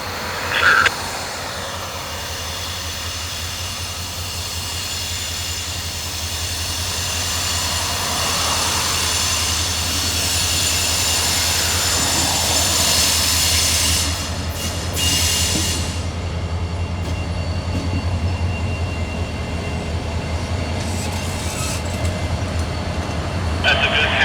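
A Norfolk Southern SD40-2 diesel locomotive, running long hood forward, passes near a street crossing. Heavy rumbling and clattering railcars roll by steadily throughout, with occasional squeals and hiss. No voices are heard.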